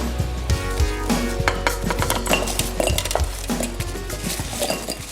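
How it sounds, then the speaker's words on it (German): Chicken wings tossed with fish sauce and garlic in a bowl, giving close, busy clinks and scrapes of utensils against the dish with soft wet stirring, continuous and fairly loud with no talk. "Zuletzt werde ich jetzt die Hähnchenflügel in eine Schüssel geben, dann Fischsoße und den Knoblauch dazugeben"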